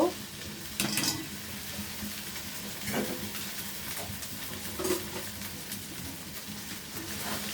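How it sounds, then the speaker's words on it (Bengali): Chopped okra fries in a pan with a steady low sizzle, broken by a few scraping stirs and clinks of a utensil against the pan. "ঢেঁড়স কুচি করা সেগুলো আমি এখন দিয়ে দিব।"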